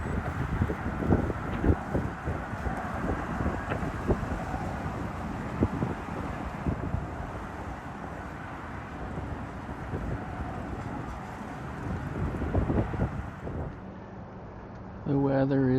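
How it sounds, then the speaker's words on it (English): Strong wind buffets the microphone outdoors on a cool spring day in Kansas City, a steady loud roar with gusty low rumbling throughout, easing slightly near the end. "It's very windy and cool today."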